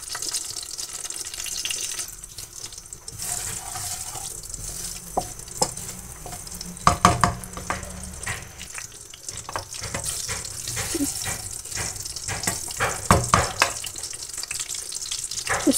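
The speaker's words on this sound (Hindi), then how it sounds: "ऑयल के बाद ये लाल मिर्च, ज़ीरा और ये एक सब्ज मिर्च," Red chili, cumin and green chili frying in hot oil for a moong dal tempering: a continuous loud sizzle with stirring scrapes and bursts of crackling, heard up close without talk.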